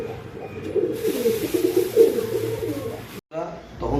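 Pigeons coo in low, throaty murmurs close by, mixed with a person talking, then a brief pause and some handling noise.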